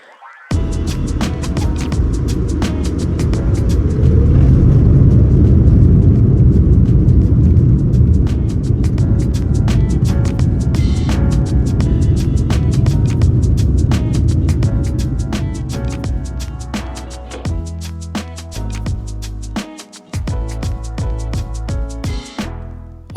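Inside the cabin of a United Boeing 787-10 Dreamliner, a low engine rumble builds and holds during pushback and taxi, steady and loud, with rattles and bumps growing more frequent later.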